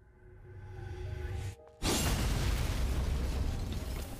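A steady roaring rumble cuts out briefly, then a loud blast erupts into a sustained, dense explosive roar of explosions in the video game Stellar Blade.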